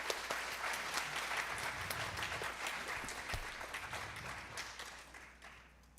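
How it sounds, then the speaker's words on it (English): Steady applause fills a hall from an audience at a Bharatanatyam arangetram, a classical Indian dance debut. The sound is soft and distant, holds evenly, then thins out near the end. "let's all take a moment to applaud Srivika's father and mother"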